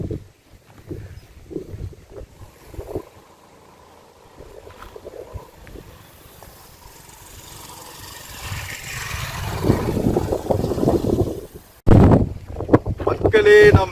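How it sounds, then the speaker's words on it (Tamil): Wind gusts buffet the microphone atop Vaigai Dam in Madurai, with water lapping faintly below while people talk intermittently over the blowing. "டேமோட அலைகள், அங்கிருந்து வர காத்து"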